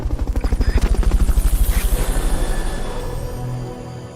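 Helicopter from the video game Metal Gear Solid Peace Walker, its rotor thumping in a fast, steady rhythm that is loud at first and then slowly fades, with no talk over it.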